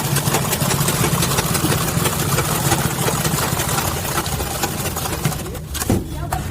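A sewing machine runs loudly and continuously while sewing down the seam of a foldable fabric school bag, a dense mechanical drone that eases slightly near the end.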